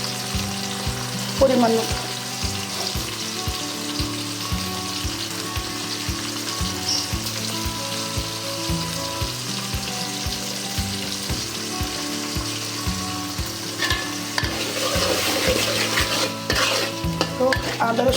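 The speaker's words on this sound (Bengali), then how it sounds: "তো আদা রসুনটা একটু ভাজা ভাজা হতে থাক।" Ginger and garlic fry in a pan with a steady, close sizzle, broken by regular scraping stirs of a spoon; a voice speaks briefly over the cooking.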